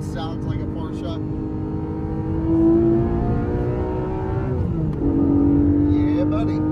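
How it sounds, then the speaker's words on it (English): Porsche sports car engine under hard driving, revving up and holding high rpm, dipping briefly as it shifts, then climbing again; loud and close inside the car with a voice talking at the start and end. "Oh, it sounds like a Porsche."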